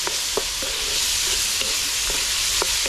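Pumpkin and carrot sautéing in a pan over a bamboo fire outdoors, a loud, continuous broadband sizzle with scattered light clicks of stirring throughout.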